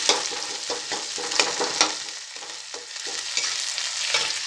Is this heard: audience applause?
no